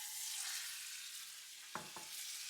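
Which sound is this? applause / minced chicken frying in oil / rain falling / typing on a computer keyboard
minced chicken frying in oil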